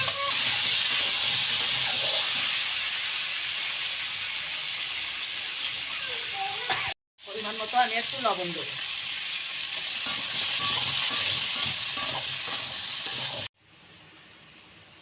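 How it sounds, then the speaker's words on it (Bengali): Sweet pumpkin frying in oil in a wok gives a steady, close sizzle and hiss that runs almost throughout, with a brief break midway, while a person speaks over the cooking. "মিষ্টি কুমড়োটা ভেজে নেব।"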